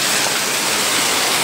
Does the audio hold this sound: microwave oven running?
no